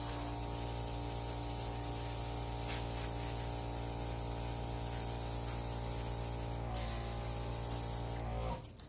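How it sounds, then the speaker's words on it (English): An airbrush sprays pigment over resin art, a steady, loud hiss with a continuous hum underneath that runs unbroken for about nine seconds before cutting off at the end. "And this is created some really cool effects right here, just with the airbrush."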